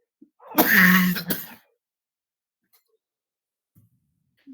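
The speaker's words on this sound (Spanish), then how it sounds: "inmediatamente que empiezo a hablar me viene el acceso de tos incontrolable" A single harsh throat-clearing cough bursts out close to the mic, lasting about a second, followed by near silence with faint small noises.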